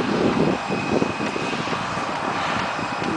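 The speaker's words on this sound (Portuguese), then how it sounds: "Só quando o avião virar." A fixed-wing airplane banks overhead, its engine a steady broad roar heard from the ground, with some wind noise and no talk.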